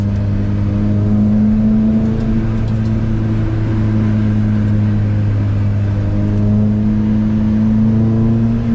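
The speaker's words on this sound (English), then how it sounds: "As you leave to pit, keep revving to avoid stalling the car." A race car engine at Sepang Circuit runs loudly and steadily, revved while leaving the pit to avoid stalling, holding a high revving drone throughout with slight shifts in pitch.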